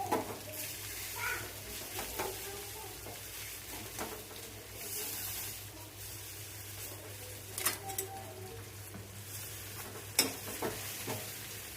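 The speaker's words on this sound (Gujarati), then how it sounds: "સરસ મજાનો પાત્રાનો તલથી ને લીમડાથી વઘાર થઈ ગયો છે" A patra tempering of sesame seeds and curry leaves sizzles softly in hot oil. Scattered clicks and stirring knocks sit over a low background hum, and no one speaks.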